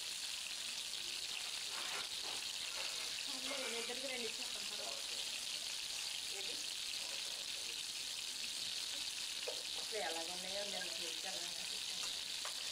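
Chicken legs fry in an oiled pan while being turned one by one with two ladles, giving a constant hissing sizzle throughout, with a voice talking over it at times.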